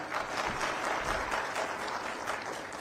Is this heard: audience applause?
yes